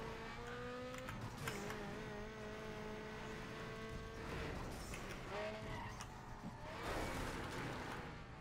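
Tires squeal in repeated drawn-out skids from a racing car in Need for Speed Underground 2, tonal screeches sliding in pitch over a steady engine drone, with a louder burst of noisy skid near the end.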